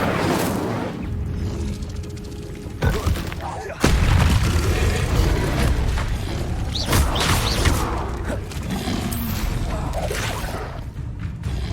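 Incendio fire spell casts in Hogwarts Legacy: a sharp burst of flame lands, then a heavy boom with a rolling roar, layered with game effects and occasional talking.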